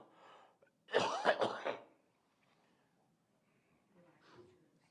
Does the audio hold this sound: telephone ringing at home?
no